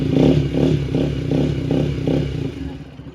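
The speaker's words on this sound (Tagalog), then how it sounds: "Hirap yung makina." A struggling Kawasaki NS200 FI motorcycle engine sputters and revs in rough, uneven pulses, labouring with a clattering rhythm before fading slightly.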